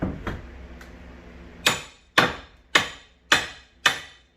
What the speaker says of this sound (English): Let me get my little hammer.